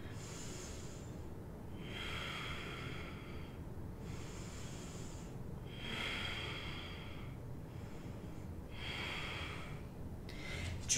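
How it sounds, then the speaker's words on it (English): Slow, deep breathing during a seated pigeon yoga pose, with about five long, airy inhale-exhale cycles evenly spaced and fairly close, alone without talk. "Keep breathing."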